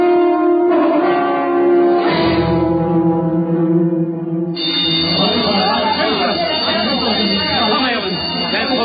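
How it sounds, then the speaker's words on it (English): A change bell rings in a radio drama, a sustained resonant metallic tone with ringing overtones that gives way to a brighter, buzzing clang partway through, loud and with no speech over it. "Once again, the change bell has sounded."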